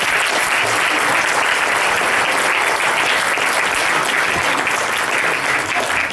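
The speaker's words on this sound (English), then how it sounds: "big round of applause for our" Dense, loud applause from an audience at a birthday celebration fills the whole stretch, a steady wash of clapping hands with no pauses and no talking.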